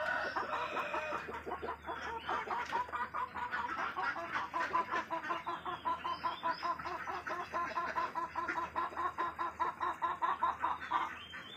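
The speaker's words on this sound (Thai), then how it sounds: "ไก่ไข่ผสมไก่บ้านครับ" A busy flock of mixed laying hens and native chickens clucks continuously, with overlapping short calls close by and a distant crow mixed in.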